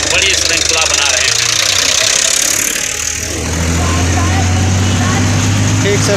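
Tractor engines run at a farmers' protest in Ayodhya: a loud, steady low diesel rumble with knocking idle throughout, with voices and crowd noise mixed in.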